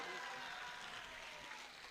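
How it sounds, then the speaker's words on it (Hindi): A crowd at a political gathering applauds steadily, a dense, even wash of clapping heard from a distance, faint and continuous, with no one speaking over it. "जोर से ताली बजाओ"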